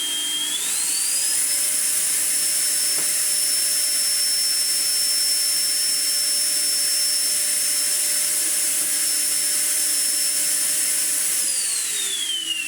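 A Sebo Airbelt K Pet vacuum cleaner with its spinning turbo head gives a loud, steady motor whine that rises in pitch as it spins up, holds for about ten seconds, then winds down at the end, with no talking.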